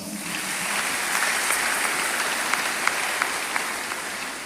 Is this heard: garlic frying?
no